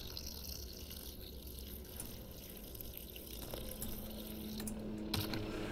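Liquid pours into a container in the Cooking Simulator video game, a faint, steady watery trickle that thickens slightly toward the end, with no voices.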